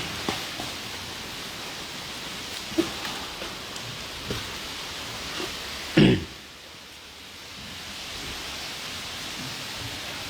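Steady rain falls outdoors at a Thai temple, Wat Doi Thep Nimit in Pa Sang, a continuous broadband hiss with scattered drop ticks and one louder splash or knock midway, no voices.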